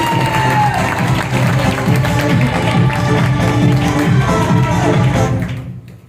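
A large audience bursts into loud, sustained applause with some cheering, a dense continuous wash of clapping that holds steady for several seconds and then fades away at the end.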